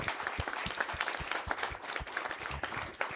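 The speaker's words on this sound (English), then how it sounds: "That is worth clapping for." Audience applause at an annual meeting of an electric cooperative, a steady wash of clapping from a crowd that carries evenly through the whole moment with no voices over it.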